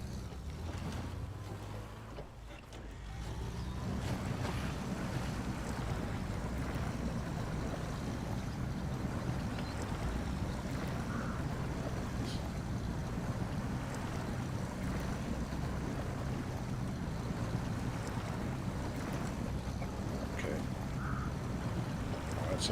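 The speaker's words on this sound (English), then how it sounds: "It's not a bad water crossing for a scout truck." A scout truck in Snowrunner drives through a water crossing, heard as a steady engine drone with continuous sloshing, splashing water throughout, and someone talking over it.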